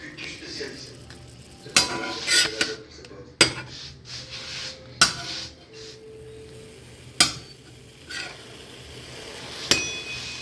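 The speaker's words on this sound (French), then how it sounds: "Là, je vais retourner les bacon." Bacon strips frying in a pan are flipped with a utensil. Sharp metallic clinks and scrapes come every second or two over a faint background sizzle.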